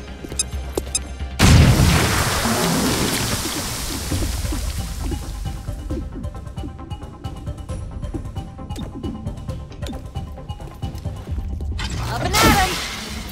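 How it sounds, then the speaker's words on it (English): A grenade blast in the tactical game XCOM: Chimera Squad hits loud and sudden, followed by a long rumbling, crackling tail of debris and gunfire-like clatter, with a second burst near the end. "Throwing grenade!"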